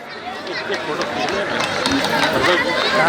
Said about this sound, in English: Let's have a big round of applause for all the participants in all categories